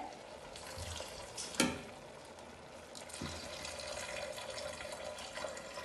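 Hot broth is poured over chicken frying in a pot, bringing a brief splash and hiss followed by a steady, soft sizzle and bubbling.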